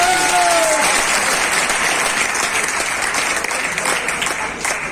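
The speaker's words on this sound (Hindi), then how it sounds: "एक बार जोरदार तालियां बनती हैं।" A crowd at a training program held in a hotel in Nalagarh breaks into loud, dense applause that sustains evenly before tapering slightly at the end, with a few faint voices over the clapping.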